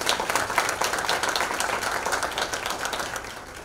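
Audience applause at an athletic hall of fame recognition ceremony, a steady sustained wash of many hands clapping that gradually thins toward the end, with no talking over it.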